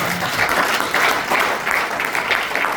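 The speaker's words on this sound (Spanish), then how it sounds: "¿Cuántos pueden dar un aplauso al Señor," A church congregation breaks into loud, sustained clapping, a close, dense wash of many hands with a faint murmur of voices beneath.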